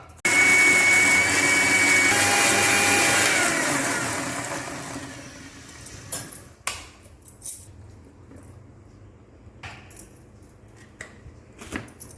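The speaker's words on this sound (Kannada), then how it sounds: "ನುಣ್ಣಗೆ ಇದನ್ನು ರುಬ್ಕೊಳ್ಳೋಣ" A mixer grinder purees mushroom curry masala into a fine paste, its loud whirring motor running steadily for about four seconds before winding down, followed by faint clinks and handling noises.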